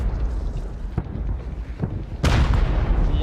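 Airstrike explosions in the video game Rust: a few dull, low booms thud in the first two seconds, then a loud, sustained blast rumbles on to the end.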